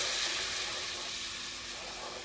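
Butter and all-purpose flour roux stirred over lowered heat in a pot, a soft, steady sizzling hiss that fades slightly, close and fairly quiet.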